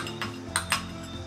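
Chopped banana pieces dropped into a mixer jar give a few soft clinks and taps against the jar, with two sharper knocks close together near the middle, heard close up with no talking.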